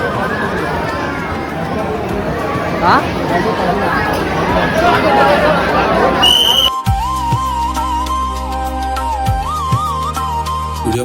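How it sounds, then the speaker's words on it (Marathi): Dense babble of a large crowd of devotees at the Renuka Mata temple in Mahurgad, a steady loud hubbub with shouts, then an abrupt cut to music with a whistle-like melody over it. "एवढी मोठी गर्दी आहे"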